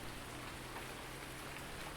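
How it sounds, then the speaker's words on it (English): Steady rain pours in Farming Simulator 19, a dense, even hiss of falling drops on a farm, continuous and unbroken with no voices. "the rain we were expecting has certainly gotten here"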